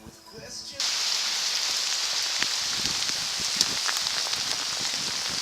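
Heavy rain suddenly pours down in a dense, steady hiss after a brief quieter moment, close and loud throughout.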